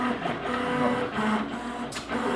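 An HP 7225B pen plotter driven by linear stepper motors makes a continuous mechanical whir and buzz with shifting tones as the pen carriage moves, close and fairly loud.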